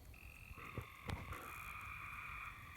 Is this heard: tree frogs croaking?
yes